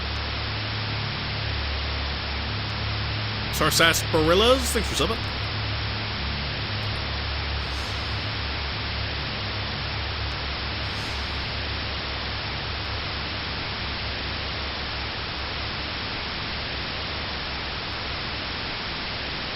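Steady white-noise static from the horror game Fear & Hunger 2: Termina hisses throughout over a low hum, staying even and unbroken. A voice speaks briefly near the start.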